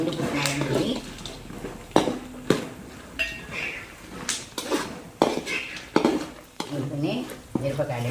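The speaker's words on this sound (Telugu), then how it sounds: "పల్లీలు చూడండి, పల్లీలు వేగుతున్నాయి" Peanuts frying in a pan for poha chivda with roasted gram stirred in: scraping and clinking of a spoon against the pan in repeated strokes over a soft sizzle, with a voice talking throughout.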